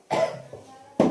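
A person at home coughs twice nearby, a harsh throaty cough followed by a second one after a short pause.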